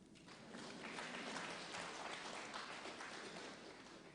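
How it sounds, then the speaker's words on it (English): Lecture audience at a 2020 special lecture claps together for an honoured professor, a dense, even burst of applause that rises quickly, holds for a few seconds and begins to taper near the end. "Clap for him,"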